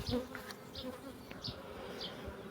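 Honey bees buzz around a hive during seasonal hive expansion. A faint, close buzzing drones throughout, with individual bees whining past at moments, and no voices are heard.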